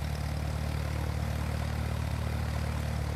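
A Cessna propeller aircraft taxiing in a flight simulator game gives a steady, droning low engine hum with a buzzing propeller tone that holds constant and close throughout.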